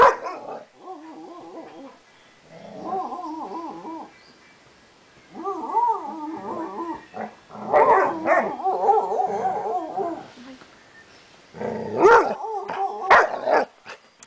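Repeated bursts of barking and whiny yelps from a nearby dog, coming in clusters with short pauses, loud and close.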